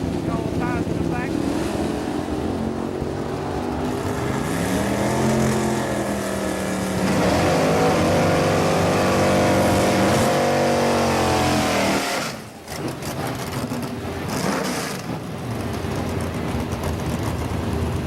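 A 1974 Chevy Nova with a 406 engine and wide rear tires drives past, its loud V8 droning and climbing in pitch as it accelerates, then cutting off abruptly before rumbling on again.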